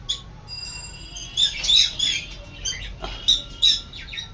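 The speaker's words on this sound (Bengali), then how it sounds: "এই যে আমার পাখি এবার দেখতে পাচ্ছেন ওগুলো সব আমার টেম করা পাখি" Tame pet blue lovebirds chirping in a series of sharp, high tweets and squawks, bunched into short bursts with brief pauses, fairly close with a faint background hum.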